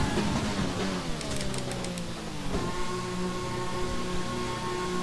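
An F1 car in the F1 2020 racing game brakes hard into the pit entry, its engine note sweeping downward in pitch before settling into a steady, even pit-limiter drone, loud and alone without talk.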